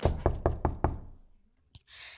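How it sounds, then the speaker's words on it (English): Loud knocking on a door, five sharp evenly spaced raps close by, followed by silence and a faint thump. "someone knocked loudly on the door"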